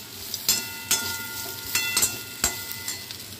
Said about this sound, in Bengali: আর এখানে আমি ভাজছি এই যে উচ্ছে আর রাঙালু ভাজা।